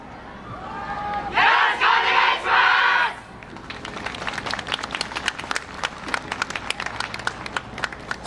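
Dancers from an Osaka University yosakoi dance circle shout in unison at Kyoto Sakura Yosakoi. A brief burst of loud collective cries is followed by sustained crowd clapping and scattered cheers from the festival audience.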